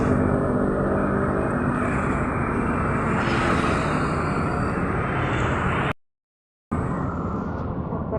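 A Damri airport bus pulls in with a steady, loud engine rumble and broadband road noise throughout. The sound cuts out abruptly for a moment before resuming.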